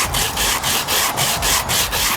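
A fiberglass repair sanded by hand along its contour, a steady, close rasping scrub in even back-and-forth strokes, about eight rhythmic passes with no talk.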